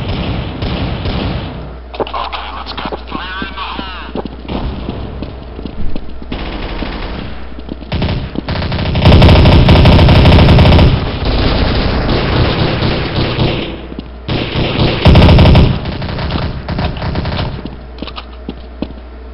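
MP5 submachine gun in the video game Counter-Strike: Source, firing in repeated rapid bursts and sustained automatic strings, loud and close, with heavier thudding volleys midway and no talking.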